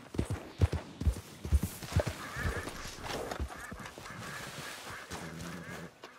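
Horse hooves clip-clop in Red Dead Redemption 2, a run of distinct close thuds at a quick gait that fades into softer ambient outdoor game sound.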